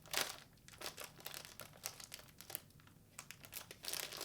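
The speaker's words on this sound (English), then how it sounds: "this is a package that really does not want you getting into it" A crinkly snack package is twisted and pulled open by hand, giving loud, continuous crackling and crumpling bursts close by, with no talk.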